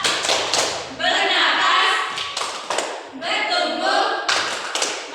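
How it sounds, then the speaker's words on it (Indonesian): A class of young pupils in a primary science lesson claps in rhythm while chanting together, with loud bursts of clapping interrupted by brief pauses. "Tepuk ciri-ciri makhluk hidup."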